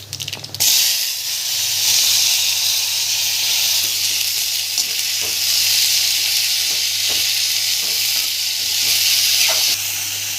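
Cumin, turmeric and chopped sheranya hit hot oil with mustard seeds in a pan, a loud, steady sizzle and hiss that runs close and continuous for about ten seconds, with no talking.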